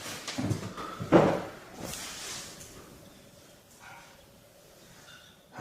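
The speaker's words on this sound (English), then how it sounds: "that door's just opened behind you" A door in an abandoned house opens with a couple of creaking, knocking sounds early on, then fades into quiet room ambience with a faint thump at the end.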